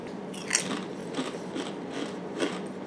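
Crisp crunching of sour cream and onion potato chips being chewed up close, a run of about five sharp bites and crunches spaced through a quiet moment with no talking.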